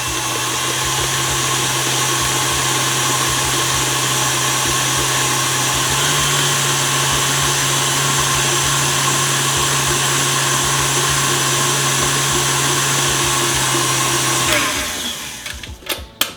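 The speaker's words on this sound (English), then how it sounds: "So start the mixer on low just to get everything combined" An electric mixer whisks tiramisu brownie crinkle cookie batter with a loud, steady motor whine that holds evenly for about fourteen seconds, then cuts off, leaving a few faint clicks.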